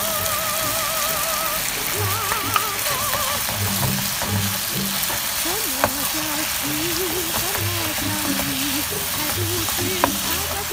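Ginger and onion stir-frying in a pan for a Thai chicken and ginger dish, with a steady crackling sizzle and occasional scraping stirs, close and continuous while a voice talks over it.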